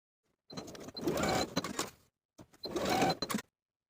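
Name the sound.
sewing machine sewing side edges of pants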